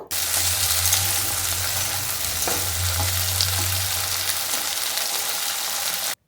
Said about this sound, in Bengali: তেলটা ভালো করে গরম করে নেওয়ার পরে জল ঝরিয়ে নেওয়া শিমগুলো দিয়ে দেব তেলের মধ্যে।